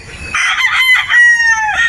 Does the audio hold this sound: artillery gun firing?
no